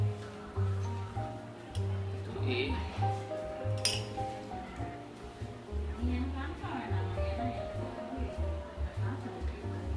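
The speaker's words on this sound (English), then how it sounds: "let me stir a bit more before we pour" Stirring a mixture in a glass test tube gives light, scattered clinks of glass against glass, set against steady low hum and background talk.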